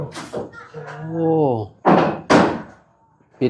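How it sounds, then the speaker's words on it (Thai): A door swung shut during a Thai-speaking man's chatter, giving two sharp, loud thuds close by in quick succession. Talk and a drawn-out vocal sound come before them, and another knock-like hit follows. "ปิดประตูเข้าไปแล้วก็คือแบบ"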